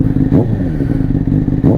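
A Honda CBR600RR motorcycle engine revs up close, with a loud, rough, pulsing rasp and quick rises in pitch across a short burst.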